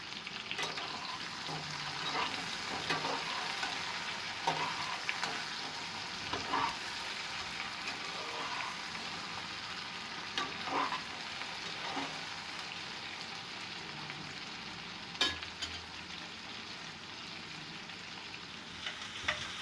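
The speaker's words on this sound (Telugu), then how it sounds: "ఆ వంకాయల్ని ఆ తాలింపులో వేసి ఒక 5 మినిట్స్ వరకు మగ్గివ్వాలి." Eggplant frying in an oil tempering in a kadai, a soft, continuous sizzle with occasional stirring clicks, close and steady with no talking.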